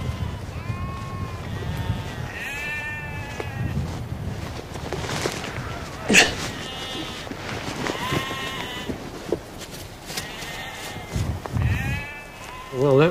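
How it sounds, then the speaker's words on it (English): Sheep bleat repeatedly on a windy hill farm, among them a ewe heavy in lamb lying on her back, with several bleats scattered through steady wind noise and a voice talking in between. "A sheep on its back."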